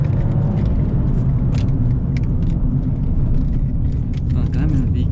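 A 2021 Toyota Yaris 1.0 VVT-i drives through a run of curves, its steady low engine and road rumble filling the cabin continuously beneath someone talking.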